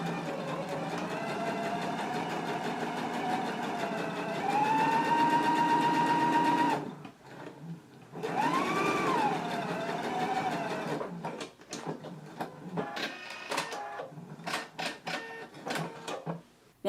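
A sewing machine basting shirt fabric runs in a long steady hum, then pauses and starts again in shorter bursts of stitching.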